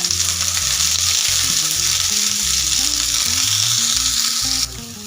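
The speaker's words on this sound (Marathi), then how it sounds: "आता इथं तेल टाकायचं कांदा तळून घ्यायला" Onion frying in hot oil gives a loud, continuous close sizzle with occasional stirring, the crackle dropping abruptly in level near the end.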